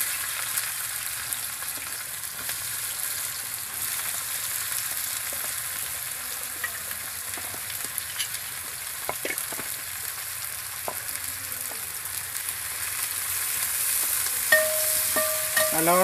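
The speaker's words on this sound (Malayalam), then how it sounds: "അതിനകത്തേക്ക് നമ്മൾ അരിഞ്ഞെടുത്ത സവാള അത് നമുക്കൊന്ന് വഴറ്റിയെടുക്കണം" Chopped onion sautés in hot coconut oil in an uruli. A steady, even sizzle runs throughout, broken by occasional spoon clicks and scrapes against the vessel, with a brief metallic ring near the end.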